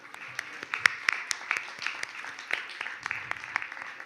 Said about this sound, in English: And a round of applause for all of you as well